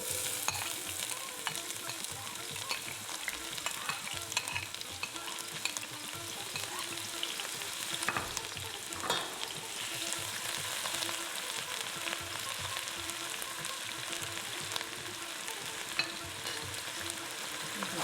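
Onions sizzle in a frying pan for a crab curry while being stirred, a steady close crackle and hiss broken by scraping and clattering from the spoon, with no voices.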